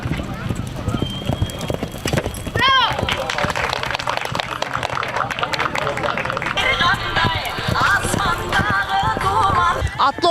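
Horses galloping hard at a mounted archery competition, a rapid rolling clip-clop of hooves under loud crowd noise and continuous talk, with a brief whinny partway through.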